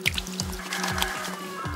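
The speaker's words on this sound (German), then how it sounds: "Da kann man hier super das Wasser schöpfen." Water being scooped from a well at a rural homestead in Guatemala, with close, irregular trickling and pouring and a few small splashes.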